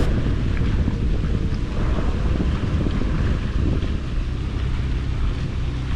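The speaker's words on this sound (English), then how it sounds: "Little windy out here today." Strong wind roars across the microphone while out jet ski fishing on open water, a steady, loud buffeting that fills the whole stretch with no speech.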